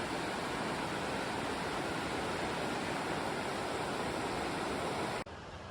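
The Dosewallips River in Olympic National Park rushing at full flow: a dense, steady roar of churning water close by that cuts off abruptly near the end.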